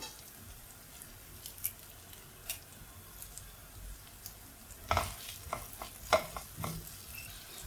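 Ginger, garlic and curry leaves frying in a pan are stirred, giving a faint steady sizzle with scattered soft scraping clicks of the spoon that grow busier toward the end.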